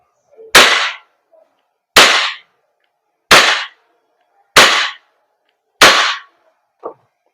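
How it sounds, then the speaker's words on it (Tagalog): A WE Glock 34 Gen 4 airsoft gas blowback pistol fires five sharp, loud cracks at steady intervals of a little over a second, followed by a fainter click at the end. "ito na, barilin natin."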